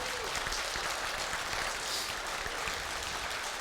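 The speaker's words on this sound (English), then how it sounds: "That's far too much clapping for them." Audience applause at a Bruichladdich whisky masterclass, a dense, even wash of clapping held steadily at moderate level throughout, with no speech over it.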